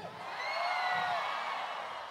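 A rodeo crowd shouts and whoops together in a sustained, distant roar lasting the whole moment, with no clear single voice standing out.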